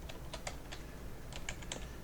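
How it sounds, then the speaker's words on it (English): Soft, fairly quiet clicking of keys on a computer keyboard, a handful of quick taps in an uneven rhythm over a low background hum, with no talking. "So I'm going to type wing"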